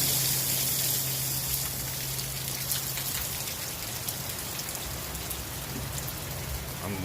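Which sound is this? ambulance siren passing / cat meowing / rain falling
rain falling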